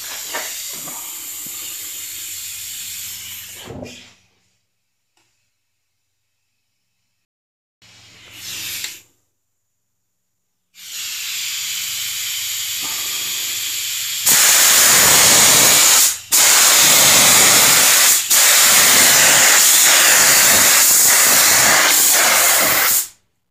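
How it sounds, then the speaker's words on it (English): A spray gun shoots a coat of candy paint, heard as loud, close bursts of airy hiss separated by silent pauses, with the final passes longer and harsher before stopping. "Gonna mix up some candy and shoot a coat of that"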